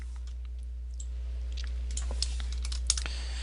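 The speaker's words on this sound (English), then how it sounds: "So I type in equals average." Quick bursts of keystrokes clack on a computer keyboard while a formula is entered into an Excel spreadsheet, close and moderately quiet, with a few sharper taps near the end and no speech.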